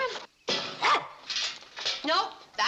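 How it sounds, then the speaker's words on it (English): Several sharp dog barks from a household dog, a train bark, come in quick bursts, close and loud, with a short gap after the first. "Nope, that's his train bark."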